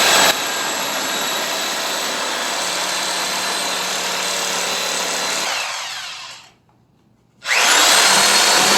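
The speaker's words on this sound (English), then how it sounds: "It does look like a Sawzall is the way to cut this." A Sawzall reciprocating saw cuts through a snowblower part in a loud, continuous buzzing run. It fades out near the end, pauses briefly, then starts cutting again.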